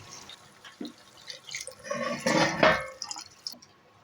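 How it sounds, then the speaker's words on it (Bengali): Water poured into a pan of cooking chicken dopiaza, a short splashing, trickling burst lasting about two seconds, close and moderately loud, with faint kitchen clatter before and after. "সেজন্য অল্প জল দিয়ে দিচ্ছি"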